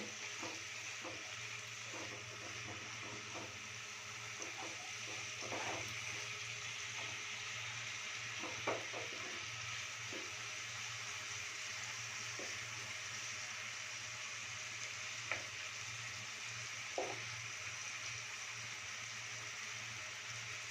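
Soft, steady sizzling of a capsicum paneer curry with chili powder being stirred and fried in a pan, with faint scraping stir clicks scattered throughout, low and continuous without speech.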